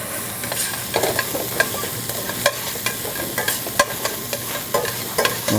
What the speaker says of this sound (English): Okay, you cook the onions for,